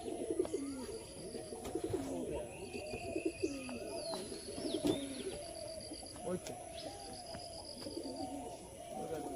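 Pigeons coo continuously and close by at a low-flyer pigeon tournament in Nabadwip, with faint chirps and people talking in the background.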